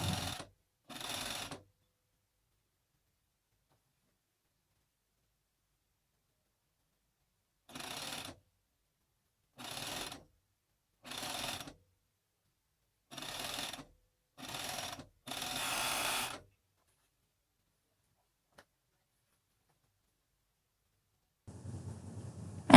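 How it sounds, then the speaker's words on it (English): A sewing machine stitching the side seams of an Inari top, running in several short separate bursts of a second or so with silent pauses between. "I'm going to sew the side seams now."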